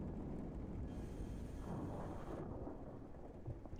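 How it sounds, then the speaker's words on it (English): Rain and a rumble of thunder in a desert storm in Kerbal Space Program, a dense low roar that swells and fades over a few seconds with steady rain hiss beneath. "here comes the rain"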